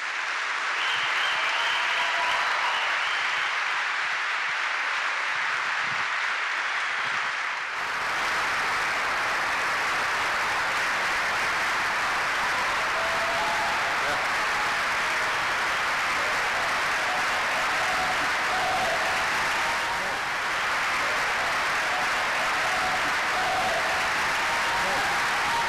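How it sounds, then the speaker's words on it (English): Sustained applause from an audience at a book talk and conversation event, steady dense clapping running throughout, starting slightly thinner and swelling fuller after a few seconds. "please just give a big round of applause for Austin Dacey and"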